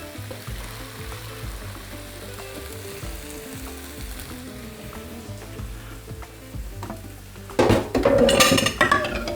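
Broth for a sorrel and bean soup strained in a kitchen, with a low sizzle and soft liquid sounds that end in a loud burst of pouring and clinking pots and utensils.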